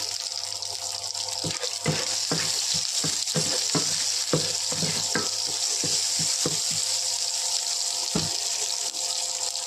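Chopped shallots frying in hot oil with already-popped mustard seeds for a radish-leaf rava kichdi: a steady, close, dense sizzle broken by sharp scraping and tapping stir strokes, with no talking.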